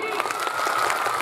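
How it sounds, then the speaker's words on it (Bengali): After a Class 9 school play, an audience bursts into steady, dense clapping that fills the short moment without a break. "সবার যখন নাটক ভালো লেগেছে একটা জোরদার হাততালি।"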